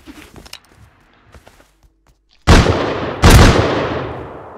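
Gunfire in the video game Rust Console Edition on PS5: soft footsteps and shuffling, then two very loud, booming shots about a second apart, each trailing off in a long echo.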